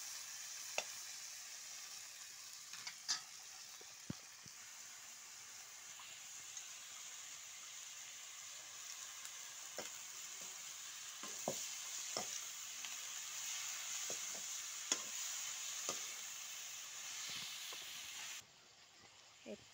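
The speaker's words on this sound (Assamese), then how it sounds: "এয়া বিলাহীখিনি দি দিলোঁ তাৰপৰা এনেকৈ লৰাইছোঁ" Tomatoes frying in a pan give a soft, steady sizzle and hiss, broken by light clicks and scrapes from stirring, faint and close, ending abruptly near the close.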